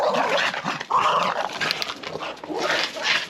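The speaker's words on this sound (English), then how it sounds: "Crazy dogs." Dogs in a workshop yard bark and whimper close by, with short yips and whiny cries in uneven bursts and a brief murmur of voice underneath.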